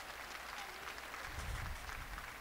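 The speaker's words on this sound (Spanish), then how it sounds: "Un aplauso a todos los Antonios" A Papal General Audience crowd gives faint, steady applause for everyone named Antonio on the feast of Saint Anthony of Padua. The dense clapping is heard from a distance and holds level throughout.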